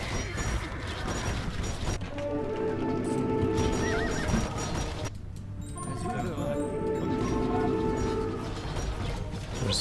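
Horses in the video game Age of Empires 2 neigh and whinny loudly, with clip-clop hooves and mechanical ratcheting clatter filling the battle, while someone talks over it.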